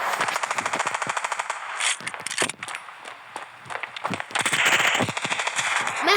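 Rapid bursts of gunfire in the video game Standoff crackle in quick strings, broken by short pauses, with sharp single shots mixed in; loud and close, no talking.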